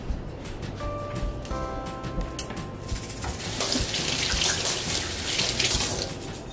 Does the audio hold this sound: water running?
yes